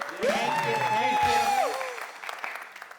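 Applause from an audience, mixed with a loud sustained cheering voice that rises, holds and fades, with clapping continuing faintly afterward.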